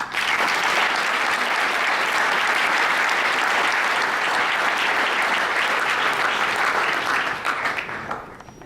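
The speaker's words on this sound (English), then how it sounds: "I think that deserves a round of applause" Sustained, full-room applause at a Ramapo soccer dinner. The clapping stays loud and even for about seven seconds before thinning out.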